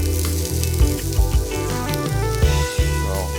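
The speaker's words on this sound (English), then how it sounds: "we're going to saute our onions" Onions sauté in a pan for mushroom risotto, sizzling steadily with crackles and occasional stirring clatter, close and clear beneath background music.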